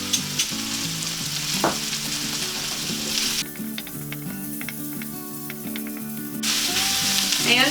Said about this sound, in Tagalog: Mas gusto ko pong prituhin yung paminta